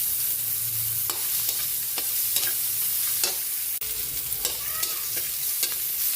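Onion sautéing in a hot pan sizzles steadily for a few seconds, with light stirring clicks and scrapes throughout, no talk.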